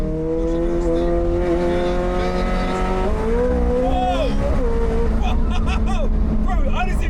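A McLaren Senna drives hard with a loud sustained engine tone that rises and shifts pitch, plus tire noise, while excited voices talk over it from inside the car.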